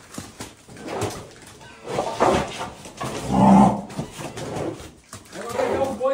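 A Nelore cattle herd being sorted in a pen, with moos and animal sounds mixed under loud shouting from handlers calling and driving the cattle.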